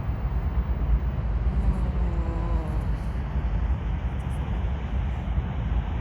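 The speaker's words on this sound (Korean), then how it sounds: "기차가 지나가고 있습니다." A train passes by at the Ttukseom riverside park, a steady broadband rumble with a faint tonal whine that holds loud and even throughout.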